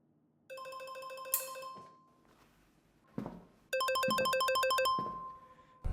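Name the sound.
telephone ringing in an office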